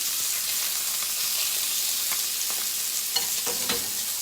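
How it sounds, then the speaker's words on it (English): Meat medallions sear in a hot pan with a steady, moderately loud sizzle and hiss, broken by a few soft clicks of stirring and handling near the end. "I don't want to lay them on top of each other because then they get steam. I want that crust to stay."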